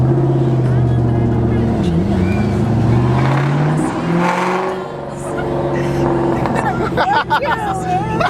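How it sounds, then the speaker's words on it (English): A Ford Mustang Mach 1 exhaust rumbles and revs up and down, close and loud, with people chattering in the background. "I got so excited over the sound of my exhaust"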